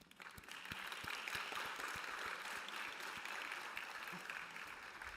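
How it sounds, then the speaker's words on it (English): Audience applause for youths on stage at an international world harmony conference, sustained dense clapping heard from within the hall, steady and moderately loud throughout. "Let's give them a round of applause"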